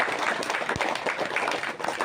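Audience applause at an Indonesian charity gathering, a dense, steady wash of clapping that holds for about two seconds, fairly close, with no speech over it.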